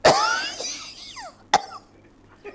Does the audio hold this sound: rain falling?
no